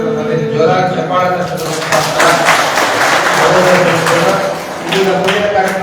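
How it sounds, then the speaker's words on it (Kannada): Audience applause after devotional singing at a religious gathering, a sustained dense patter of many hands clapping with a voice talking over it and some resonant hall tones. "ಸುಂದರವಾಗಿ ಗಾಯನ ಮಾಡಿರ್ತಕ್ಕಂಥ ಜೋರಾಗಿ ಚಪ್ಪಾಳೆ"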